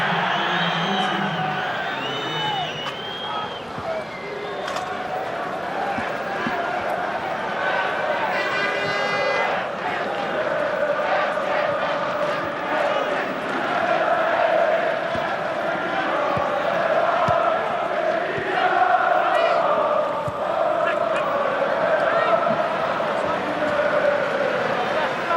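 Loud stadium crowd roaring and cheering steadily throughout a Czech Republic versus Germany Euro 2008 qualifying football match in 2007, with a commentator talking over the dense, continuous noise.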